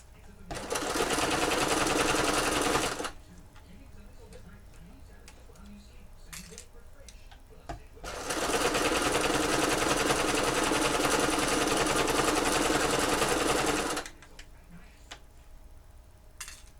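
A sewing machine stitches in two long continuous runs, each several seconds, with a quiet pause between them filled by faint handling noises; close and steady, no talking.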